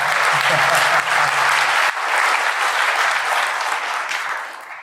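Applause from a conference audience at DEF CON, a full, loud clatter of many hands that holds steady and then begins tapering off toward the end.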